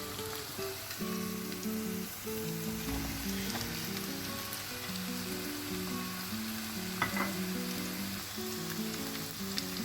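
Vegetables frying with softened onions in a pan give a steady, close sizzle with intermittent stirring scrapes, running continuously with no talk.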